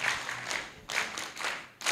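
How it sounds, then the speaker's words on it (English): Audience applause at an agricultural extension week event in Uganda, pulsing waves of clapping from a crowd, fairly close and steady, swelling and dipping across the short stretch. "I think that one deserves a bigger round of applause"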